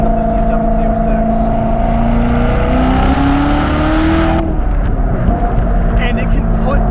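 A manual C7 Corvette Z06 on a drive, engine droning loud and close as revs climb steadily, then a sharp cut and a blip as it downshifts, with tires and cabin rumble continuing afterward.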